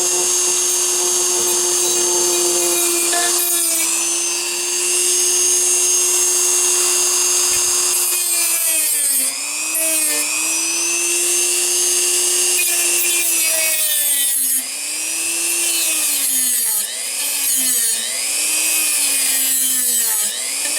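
An electric sander working on a wooden console gives a loud, steady motor whine with grinding friction. The pitch dips and recovers again and again as pressure on the wood shifts, running continuously for about twenty seconds with no talk.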